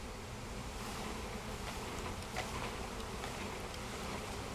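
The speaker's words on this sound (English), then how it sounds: "This is the most bees we've got in one batch so far." A swarm of bees buzzing close by during a hive relocation, a steady, dense drone that stays even throughout with no talking.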